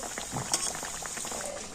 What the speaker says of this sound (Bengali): এই ফুলকপির চপগুলো উল্টে পাল্টে খুব সুন্দর লাল লাল করে ভেজে নেব